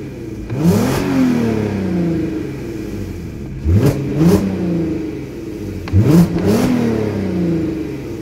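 A car engine revs three times in sharp bursts that rise and fall, close and loud, over a steady idle between the revs.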